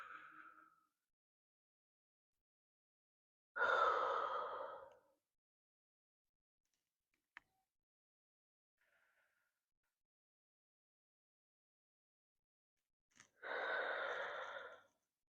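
Two loud breathy bursts, probably an inhale and an exhale during a lower-body flexibility and strength exercise, heard near and alone, separated by long silence with a faint click in between.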